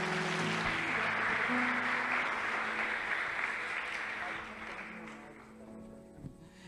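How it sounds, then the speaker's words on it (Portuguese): A church congregation applauds during a Rio de Janeiro worship event, steady broad clapping that holds for a few seconds and then slowly tapers off, with faint voices and a low hum in the room. "Pode aplaudir ao Senhor em nome de Jesus."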